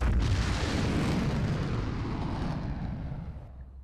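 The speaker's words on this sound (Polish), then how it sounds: "No, jeżeli coś wybucha, to znaczy, że tam jest Asura." A loud, rumbling explosion in the action video game Asura's Wrath bursts at the start, then rolls on as a broad roar that slowly fades away over a few seconds.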